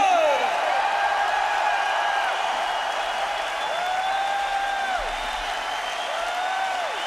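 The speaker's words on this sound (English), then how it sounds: "big round of applause" Concert audience at Radio City Music Hall, New York, after a show with an orchestra: broad crowd applause and cheering under sustained tones and whistles, steady and fairly loud, with some voices.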